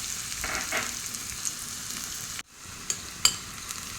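Chopped onion frying in hot coconut oil, a steady bright sizzle with a few soft stirring scrapes and clicks, one brief dropout midway, close and alone with no voices.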